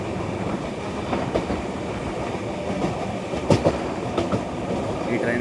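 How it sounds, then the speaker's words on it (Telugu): Prashanthi Express passenger train with LHB coaches running on the line between KSR Bengaluru and Guntur: a steady, close rumble of rolling wheels with scattered sharp clicks and clatters from the rails. "ఈ ట్రైన్ అయితే ఎల్హెచ్పి కోచెస్తో రన్ అవుతుంది"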